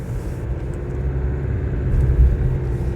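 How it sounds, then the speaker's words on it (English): An Isuzu D-Max's 1.9 litre engine idles in a low, steady rumble with a soft whir, heard up close and constant for a few seconds, with no speech. "I do quite like that engine noise."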